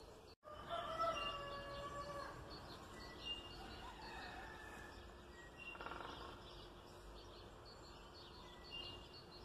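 Roosters crowing in a village on an early spring morning, heard at a distance over quiet outdoor ambience, with a few faint crows drifting in and out.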